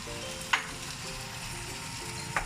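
Potatoes and meat frying in a pan for a Japanese curry, a steady soft sizzle with two brief clinks of a utensil against the pan.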